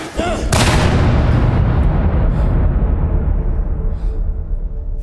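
A single loud, close gunshot rings out in the video game INDIKA, its sharp crack followed by a long, rumbling echo that slowly fades.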